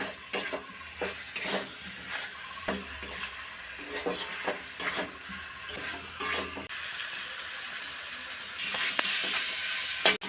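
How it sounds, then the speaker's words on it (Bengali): Spice masala of coriander, cumin, turmeric and chili powders with salt and a little sugar frying for chicken in a pan, with repeated spatula scrapes and clinks, then a louder, steady sizzle in the last few seconds. "খুব ভালো করে আমি মশলা কষিয়ে নিয়েছি।"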